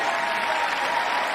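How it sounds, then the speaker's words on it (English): Democratic lawmakers applaud at the State of the Union address with a dense, steady wall of clapping that fills the chamber at an even level throughout. "We're seeing, the full Democratic side clapping there."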